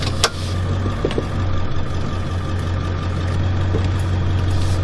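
A 7.3 Powerstroke diesel fitted with a Wicked Wheel 2 turbo idles with a loud, steady low rumble and a faint high whine on top, close up and unchanging throughout.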